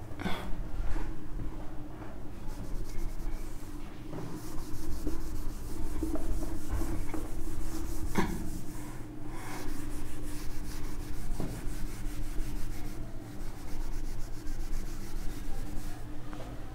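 Writing is rubbed out on a surface in steady, scratchy back-and-forth strokes that carry on for about seventeen seconds, loud and close, with a few brief pauses and no talking.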